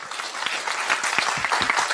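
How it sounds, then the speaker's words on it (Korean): An audience at a talk applauds in a short, steady burst of clapping that carries on throughout without any speech. "박수를 쳐주시려면 좀 화끈하게 쳐주시든가."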